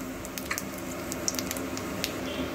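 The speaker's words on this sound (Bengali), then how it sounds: "ফোড়নে দিয়ে দিচ্ছি একটা শুকনো লঙ্কা, সাথে দেব হাফ চামচ মতো কালো জিরে ফোড়নে" Dried red chilli and black cumin seeds sizzling in hot mustard oil in a pan, a faint steady fry with scattered small pops and crackles.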